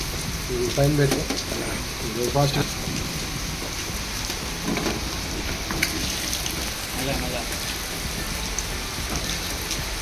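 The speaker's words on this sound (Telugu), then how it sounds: "ఆయిల్ బాగా కాగి ఉంది కాబట్టి వేయంగానే ఫ్రై అయిపోయినాయి." Batter pieces frying in well-heated oil sizzle steadily in a continuous loud crackle, with a voice talking intermittently over the frying.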